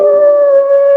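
A person imitating a wolf howl, one loud sustained close-up tone held steady for about a second, alone with no other sound.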